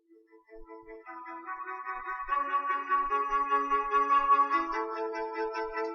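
Slideshow music fades in from silence, a soft melodic instrumental line gradually swelling in loudness over several seconds.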